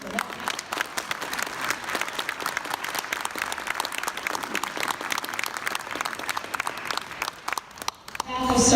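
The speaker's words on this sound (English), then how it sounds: "Let's have a round of applause just for that." An audience at a volunteer-of-the-year award ceremony for The Arc New York claps steadily for several seconds, the applause fading slightly before a louder noise at the end.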